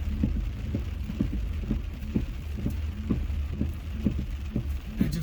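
Hard rain falls after sleet, a steady dense patter with a repeating low throbbing under it. No voices are heard.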